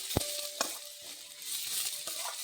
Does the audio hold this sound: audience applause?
no